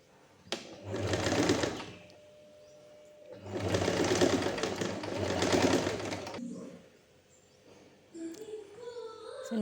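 A sewing machine stitches a coat in two sustained whirring runs separated by a short pause, close and fairly loud, followed by quieter handling noises.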